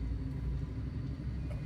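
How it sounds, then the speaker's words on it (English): A frame shift drive charges up aboard a spaceship in a space game, giving a steady, loud low-frequency rumble that holds unbroken throughout with no voices present. "Frameshift drive charging."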